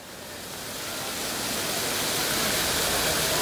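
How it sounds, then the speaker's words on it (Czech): Bigar waterfall in Romania's Banat region gives a steady, broadband rush of falling water that swells slightly and holds a constant roar throughout, with no voices. "Vodopády."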